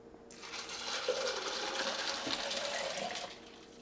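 A cup of warm water is poured into a Kismile nugget ice maker holding ice, giving a steady close trickling and splashing that starts abruptly and fades near the end, with no talk.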